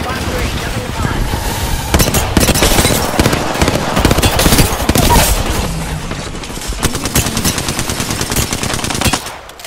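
Heavy, sustained bursts of automatic gunfire and explosions fill a ranked squad video game firefight, loud and dense throughout, with voices speaking over the shooting.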